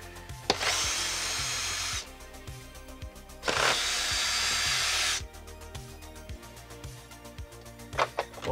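A cordless drill or driver whirs in two bursts of about a second and a half each while unscrewing the bag mount of a Riccar R30 Brilliance Tandem Air carpet cleaner. A steady rhythmic ticking runs underneath, and sharp clicks come near the end.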